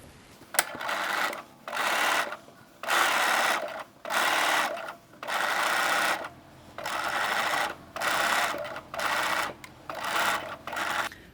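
A sewing machine stitches basting on lingerie lace in regular bursts of whirring, about nine short runs separated by brief pauses, close and clear with no talk.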